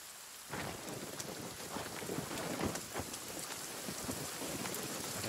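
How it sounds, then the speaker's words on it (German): Heavy rain in the video game The Forest starts suddenly and pours steadily, a dense hiss with pattering drops and occasional low rumbles, loud and close. "Alter, wie laut ist dieser Regen?"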